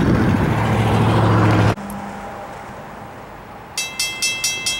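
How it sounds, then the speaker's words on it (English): A freight train passes close by with a loud, steady rumble that cuts off abruptly, followed by quieter ambience and a short series of repeated high tonal pulses near the end. "so that should be another freight train"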